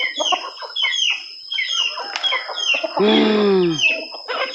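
Chickens cluck and chatter in short bursts in a rural village, then a rooster lets out one long, loud crow nearby before the clucking resumes.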